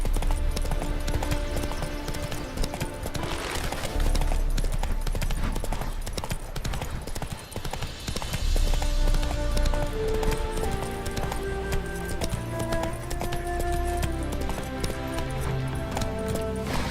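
Rhythmic clip-clop of hooves from Geralt's horse Roach in The Witcher 3, a steady trotting beat lasting throughout, with background music playing over it.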